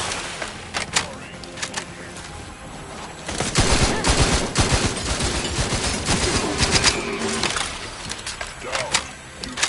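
Rapid gunfire in The Outer Worlds 2, a loud sustained fusillade of overlapping shots and clattering impacts in the middle, with scattered sharper cracks before and after and voices speaking intermittently.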